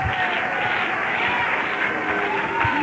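A convention hall audience at a 1978 Worldcon cheers and applauds, a dense steady wash of clapping and voices filling the whole moment with no pause.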